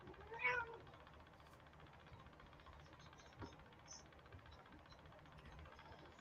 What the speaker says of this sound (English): Sassy cat.